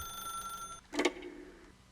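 A telephone ringing in The Stanley Parable: a steady electronic ring tone held for under a second, then a brief clatter as the receiver is handled, fairly quiet and close.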